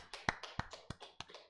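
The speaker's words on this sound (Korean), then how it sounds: "하나님께 영광의 박수 돌려드리겠습니다" Hands clap in a church congregation in an even, sharp rhythm, about three claps a second, close and distinct against quiet, with no talking.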